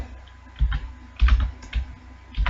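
Code is typed on a computer keyboard, with short bursts of soft, close keystrokes and clicks at irregular intervals over a low steady hum, and no talking.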